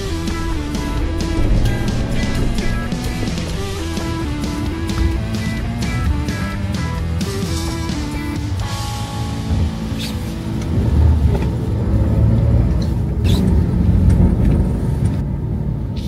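A Toyota 4Runner strains in deep sand, its engine rumbling steadily and loudly as the wheels dig in on a small uphill slope, with the drone rising and falling throughout.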